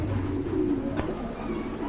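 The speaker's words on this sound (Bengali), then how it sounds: "খুবই সুন্দর এক জোড়া মডানা কবুতর" Low, steady Modena pigeon cooing repeats close by, a soft throaty murmur running through the whole moment with no talking over it.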